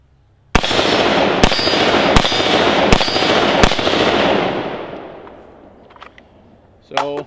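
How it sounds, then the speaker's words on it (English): Five sharp, loud rifle shots from a Beretta ARX 100 firing PMC Bronze ammunition from a second-generation PMAG ring out at an even pace outdoors, each followed by a long echoing tail, and then faint handling sounds. "we shot a few times just to function test it and not had any stoppages through it whatsoever"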